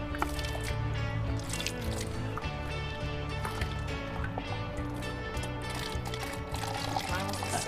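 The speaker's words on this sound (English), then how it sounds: "this is water being emptied into the soil next to a river" Water pours and drips steadily into soil beside a clean river outdoors, a continuous wet splashing and trickling that runs unbroken at moderate level throughout.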